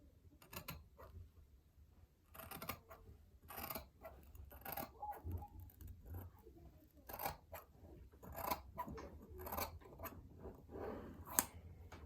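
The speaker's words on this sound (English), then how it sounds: "So I'm just going to cut across." Scissors snip repeatedly through ribbon while cutting a tutu to length, a run of close, crisp crunching cuts at an uneven pace over quiet room tone.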